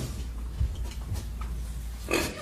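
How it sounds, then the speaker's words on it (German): A pig, part of a stage comedy, gives a few short, low grunts close by against a dull steady background, then a brief louder snort near the end. "Noch ein paar Grunzer und dann hast du deinen letzten Grunzer gegrunzt."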